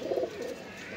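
Soft cooing of white Punjabi Malwai pigeons close by at Chhatarpur village, Delhi, a low burbling call at the start fading into quieter murmurs, with light background noise.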